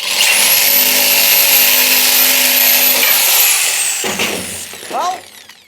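A power tool whines loudly and steadily while cutting through a car chassis rail during a Bedford Rascal body swap onto a Porsche, then stops abruptly and gives way to a few metallic clanks.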